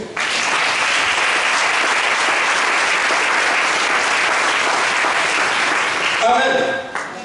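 A church congregation applauds and cheers in worship, with sustained, dense clapping that fills the room for several seconds before a voice breaks in near the end.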